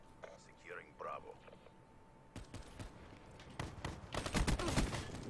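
Gunfire aimed at the player in a video game breaks out after a quiet, whispery start, with scattered shots and then dense, loud bursts building toward the end.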